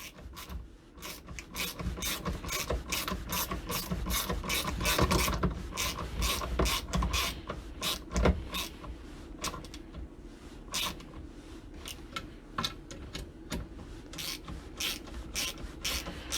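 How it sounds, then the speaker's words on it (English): A ratchet wrench tightens the bolts on a Muddy Ultra tree seat, giving a long run of quick, repeated metallic clicks and rasping strokes that are close and steady, with no one talking. "now we can go in and put our wrench on and tighten everything up with the ratchet"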